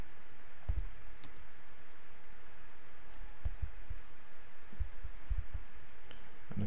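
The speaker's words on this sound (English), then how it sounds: "And if we double click that" A computer mouse is clicked several times, with two clear double-click pairs, close and low-pitched, over steady background hum and hiss.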